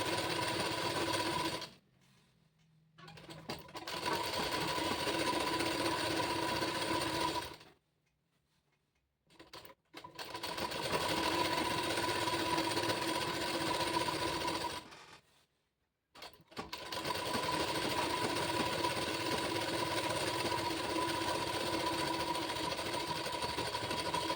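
A power sewing machine runs in steady, loud bursts of fast stitching while hemming a saree border, stopping briefly three times before resuming its continuous mechanical whir.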